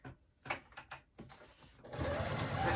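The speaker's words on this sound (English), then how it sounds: "back stitch over, just because it's a thick spot and my machine has a tendency to skip stitches there" A home sewing machine back-stitches over a thick corner of a fabric clutch purse with a zipper, starting in short separate bursts of stitching and then running steadily and loudly in one long close-up pass.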